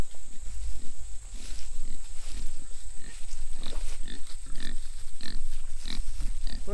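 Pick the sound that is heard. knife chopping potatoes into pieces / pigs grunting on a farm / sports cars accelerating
pigs grunting on a farm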